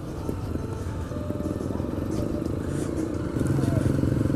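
A motorcycle rides along with a steady, fairly loud engine drone that swells slightly near the end, heard up close without any talking.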